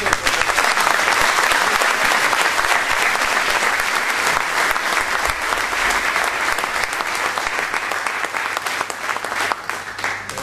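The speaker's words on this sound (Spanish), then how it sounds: "creo que se merecen un fuerte aplauso" Sustained, loud applause from a large audience at a Christmas special performance, a dense continuous wash of clapping that holds steady and only slightly thins toward the end.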